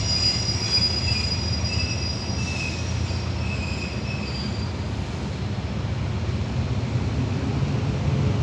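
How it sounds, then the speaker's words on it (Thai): Rapid train No. 133 from Bangkok's Krung Thep Aphiwat station to Nong Khai slowing down, a loud, steady rumble of rolling railcars with sustained high wheel squeals fading after a few seconds. "ขบวนรถเร็วที่ 133 นะครับ ค่อยชะลอตอนนี้ก็เหมือนจะชะลออยู่นะครับ"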